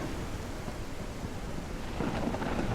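Thunder from a nearby lightning strike over a ranch campground rumbles under steady heavy rain, rising into a louder crack and roll toward the end, with no voices.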